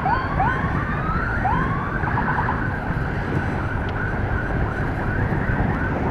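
Ambulance siren carrying a critical patient, sweeping up and down in repeated wails, loud and close and steady, with traffic noise beneath and no talking.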